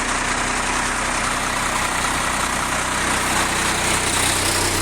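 A 1995 International 4700 with a DT466 diesel engine and Allison AT545 transmission runs steadily while its aluminum chipper dump bed lowers, a loud even mechanical drone with no voices.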